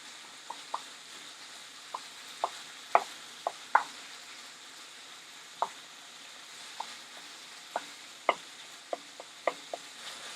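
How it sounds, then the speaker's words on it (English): Minced meat frying in a pan under a low, constant sizzle, punctuated by sharp scraping clicks of a spatula breaking up the lumps at irregular intervals, close and without speech. "It's a lot of mince, so it will take some time to cook."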